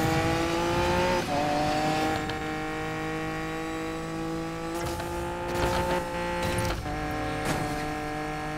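A Lamborghini Diablo SV in the Need for Speed Payback racing game, its engine wailing steadily at high revs with repeated gear shifts and pitch dips, loud and close throughout.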